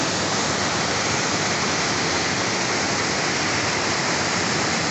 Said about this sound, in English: You just have water everywhere, water splash and water particles everywhere.